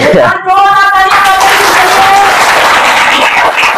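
Congregation at a Hindi satsang bursting into loud applause, a voice trailing off at the start before thick, energetic clapping fills the room and carries on steadily.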